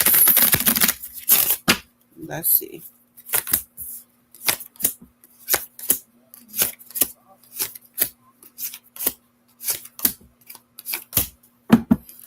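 A tarot deck is shuffled by hand in a quiet room: a steady series of brisk, papery card slaps and riffles, about two per second. A person speaks briefly.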